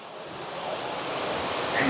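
A small river turning into a waterfall, a steady broadband rush of water, moderately close and continuous, slowly growing a little louder.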